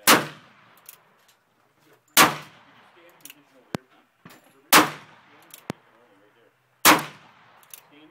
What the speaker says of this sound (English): This is speed shooting with David.